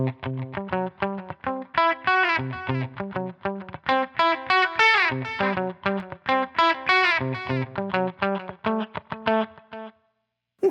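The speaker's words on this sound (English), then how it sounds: "you hear just a subtle, bouncy dotted eighth delay." A distorted electric guitar through a Line 6 Helix plays a busy melodic line while a soft dotted eighth note delay repeats the notes with a bouncy rhythm, ending in a brief silence.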